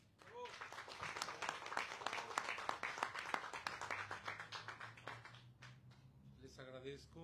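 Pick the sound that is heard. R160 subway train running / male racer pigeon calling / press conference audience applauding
press conference audience applauding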